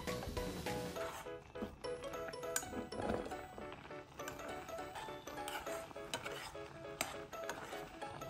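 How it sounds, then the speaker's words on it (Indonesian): Instant noodles with a cracked egg being stirred in a pan, giving a steady run of clattering utensil scrapes against metal over a soft sizzle, close and continuous. "Lalu pecahkan 1 butir telur dan aduk hingga semuanya tercampur rata."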